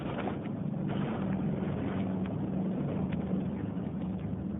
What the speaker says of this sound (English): Just a sec while I cut in this engine.